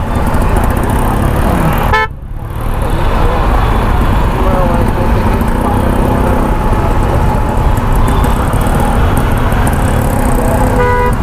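Dense city road traffic heard during a motorbike ride in Chennai, with a steady loud roar of engines and wind throughout, a brief dip near two seconds, and occasional horn toots in the mix.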